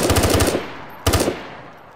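Two short bursts of rapid automatic gunfire from the video game DayZ ring out loud and close, each a quick string of sharp shots trailing into a fading echo, with no talk.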